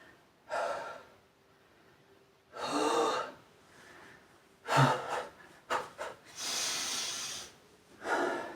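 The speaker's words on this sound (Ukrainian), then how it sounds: "Ну починається зразу задиха трохи." Heavy breathing during an exercise workout: loud, close gasps and sharp exhales come in uneven bursts with short pauses between them, and no talk.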